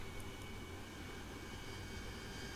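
AV-8B Harrier jet taxiing in the DCS flight simulator, a steady, dense jet engine roar with a constant whine, continuous and even throughout with no talking.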